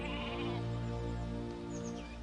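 Sheep bleat outdoors in a long, wavering, fairly loud call, with a faint bird chirp high above it.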